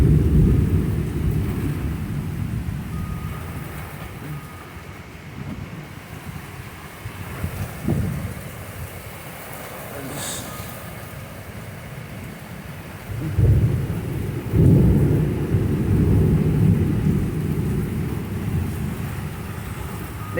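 A summer thunderstorm in August brings steady heavy rain, broken by deep rolling rumbles of thunder and a couple of louder nearby crashes, with the downpour hissing throughout.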